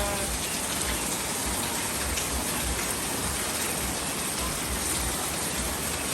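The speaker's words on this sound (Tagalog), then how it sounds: "Lakas ng ulan." Heavy rain pours in a dense, loud, unbroken roar, close and constant, with no voices over it.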